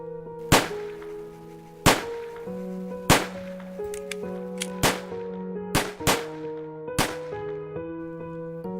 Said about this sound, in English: The moment he opened his blood-soaked mouth, the police fired.